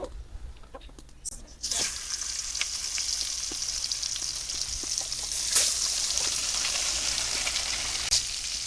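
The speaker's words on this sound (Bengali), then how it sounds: "আমি এক এক করে মাছগুলো ভাজা বসাই দিব" Rupchanda sea fish marinated with cumin and garlic paste sizzle in hot oil in a pan. A quiet stretch gives way to a loud, steady hiss of frying with scattered pops and crackles.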